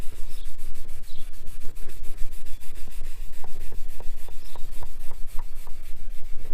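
Hand buffing of water spot remover, a slightly gritty product, off glass with a cloth: a fast, regular run of close, loud rubbing strokes, each a short squeaky swish, with no talk.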